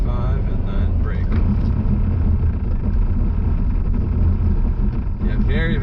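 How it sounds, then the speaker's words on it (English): A car with Michelin CrossClimate 2 all-weather tires accelerates and brakes hard from 35 mph, heard from inside as a loud steady engine and road rumble with someone talking over it. "let's get up to 35, and then brake"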